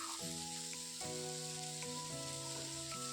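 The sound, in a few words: ripe tomato slices frying with onion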